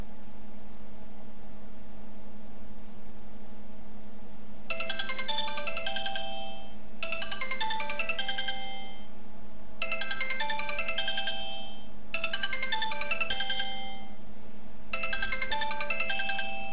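An Android phone rings with an incoming call, a melodic ringtone repeating in five regular bursts with short gaps, loud and alone over a steady electronic hum.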